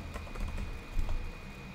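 Faint, quick key clicks from typing on a computer keyboard while writing Roblox Studio script code, a few taps clustered in short bursts over a low background hum.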